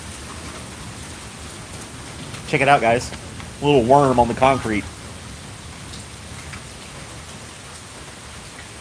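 Steady rain patters on concrete outdoors, a soft continuous wash running the whole time while someone speaks briefly over it in the middle.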